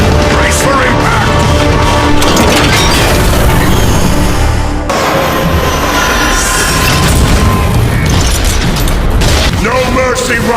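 Heavy fire in a Transformers science-fiction movie battle: loud, dense explosions and a crashing impact rumble continuously, with shouted dialogue over the din.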